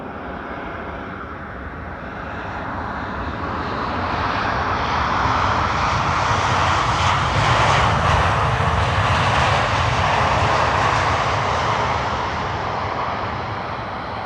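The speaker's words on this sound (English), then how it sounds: "This is KLM flight 1584 arriving from Lisbon in Portugal." A KLM Airbus A321neo arriving at Amsterdam Schiphol from Lisbon: a broad, steady jet roar that swells to a peak midway, then holds and slowly eases, heard alone with no voices.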